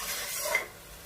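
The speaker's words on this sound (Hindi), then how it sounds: "ये देखिए फ्राई होने लगा है" Dry spices frying in a pan as the base for a chicken and vegetable creamy pasta: a soft, brief sizzle with a light stirring scrape near the middle, fairly quiet and without voices.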